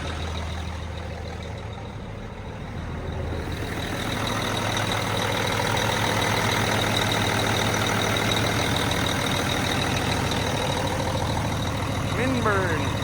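An old farm truck idles with a deep, rough, steady rumble. The engine sound thickens after a few seconds and then holds close and continuous, with faint background noise.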